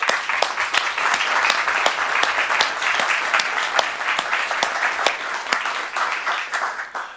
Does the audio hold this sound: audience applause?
yes